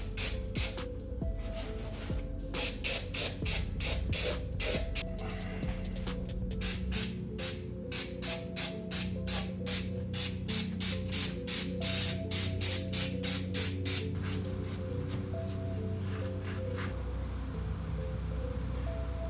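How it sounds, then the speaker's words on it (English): Brake cleaner sprayed in many short, rapid bursts onto an engine block during rebuild prep of a 3SGTE GT-Four, the hissing pulses close and loud over a steady low background hum, with no talking. "with brake cleaner, clean up the block even further."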